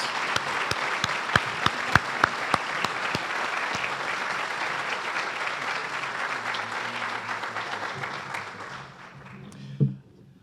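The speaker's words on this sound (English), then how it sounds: "one last round of applause for our finalists and for the recipients" Sustained applause from a breakfast awards audience honoring finalists and recipients, dense steady clapping with a few sharp louder claps early, tapering off near the end with a low thump.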